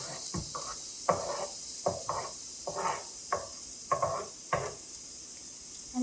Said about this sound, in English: I'm going to start by putting my onions in first.